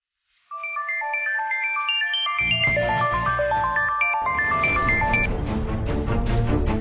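A phone ringtone begins after a short silence as a bright, repeating melodic chime, loud and close. It is soon joined by a fuller musical backing that continues steadily to the end.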